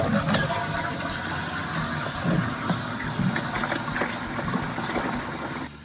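A toilet flushes and water rushes and fills into a Saniflo macerator unit, a steady close splashing and gurgling trickle that runs continuously for several seconds, with no talking.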